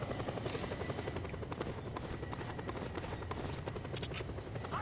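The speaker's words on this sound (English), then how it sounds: "I wanted to take out that helicopter" A helicopter in Just Cause 2 thrums steadily and loudly nearby, its rapid rotor chop pulsing without a break and no talk over it.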